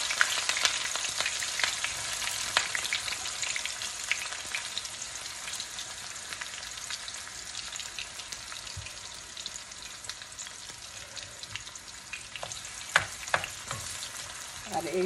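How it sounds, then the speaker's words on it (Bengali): A cumin tempering fries with chopped onion and garlic in a home kitchen, giving a steady, moderate sizzle with scattered crackles and a few spoon scrapes toward the end. "তার জন্য ফোড়নিতে আমি একটু জিরা ফোড়নি দিয়ে দিতেছি। তারপরে আমি দিব পেঁয়াজ কুচি আর রসুন।"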